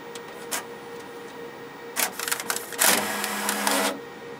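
Desktop printer running in a room, with short mechanical bursts of whirring and feeding, the loudest stretch a sustained buzzing run near the end.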